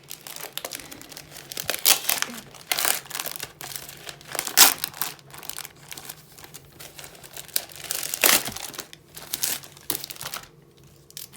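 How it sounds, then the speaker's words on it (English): Sealed plastic packaging of an 18-count cross-stitch kit being carefully opened, with repeated close crinkling and crumpling bursts and a few sharper tearing rustles spread across the stretch, no talking. "it's still completely sealed, so I'm going to carefully open it"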